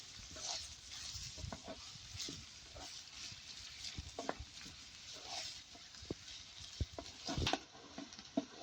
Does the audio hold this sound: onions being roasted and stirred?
yes